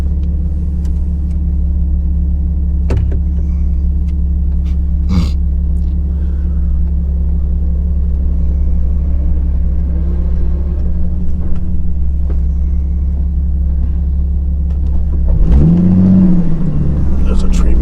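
Off-road vehicle crawling across rough canyon terrain, a loud steady engine rumble throughout with occasional thumps and a brief rise in revs near the end, with voices talking over it.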